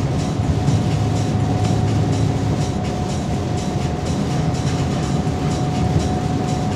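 A shunting locomotive rumbles along the rails ahead, giving a steady, loud, continuous rolling drone with a faint sustained tone and rhythmic rail clatter throughout.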